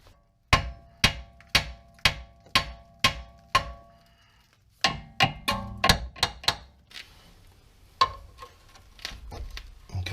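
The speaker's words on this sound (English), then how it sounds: "I'm going to start hitting right here with my hammer to crack this stud of the ball joint free of the steering knuckle" A hammer strikes a Toyota Corolla's ball joint stud to break it free of the steering knuckle: a run of seven sharp metallic blows, a short pause, then a quicker uneven burst of hits, all loud, close and ringing.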